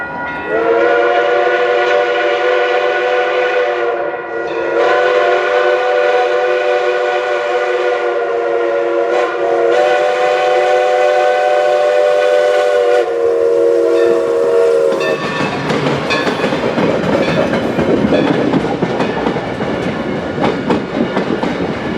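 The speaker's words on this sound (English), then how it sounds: "After that, the train headed down the hill and crossed Oldman's Creek Road." Woodstown Central Railroad No.9 steam locomotive in rural New Jersey, its loud multi-tone whistle sounding in long blasts close by, then the train rolling past with rumbling wheels on a rainy February day.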